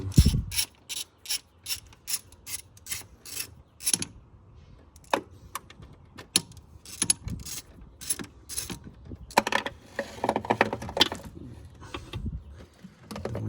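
Ratchet with an 8mm socket backing bolts off a Ford Escape 3.0L fuel rail, giving rapid bursts of crisp clicking in repeated runs with short pauses, close and fairly quiet, no talking.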